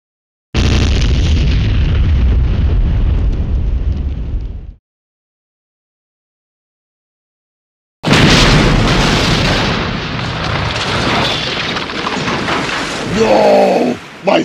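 Bombs drop and blast apart a throne room in a rough-cut animation: a loud rumbling explosion fills the first few seconds, then silence, then a second sustained crash of debris and booms.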